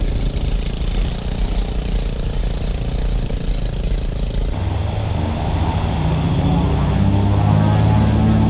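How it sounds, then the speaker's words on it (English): A small plane's propeller engine, heading back to Kodiak, roars steadily and loudly throughout, growing fuller and heavier from the midpoint as the aircraft powers up to depart, with no voices over it. "the pilot and plane were on their way back to Kodiak"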